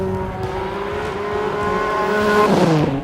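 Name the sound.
Aston Martin DB5 driven fast by stunt driver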